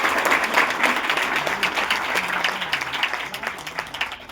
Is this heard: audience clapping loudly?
yes